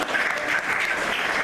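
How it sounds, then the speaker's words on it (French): Guests at a wedding ceremony applaud the future bride and groom, a brief steady patter of clapping from a crowd in a room. "On va applaudir pour les futurs mariés"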